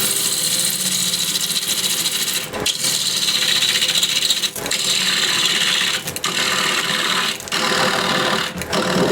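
A wooden holiday tray spins on a lathe as a turning tool cuts big shavings, giving a loud, continuous rough scraping hiss broken by a few short pauses where the tool lifts off.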